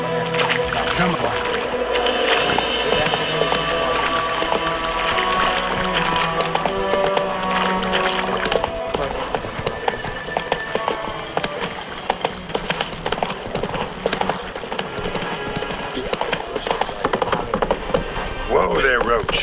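The horse Roach gallops in The Witcher 3, a quick rhythmic run of hoof clip-clops over a busy game soundscape with music and ambient effects, while a voice speaks over the action.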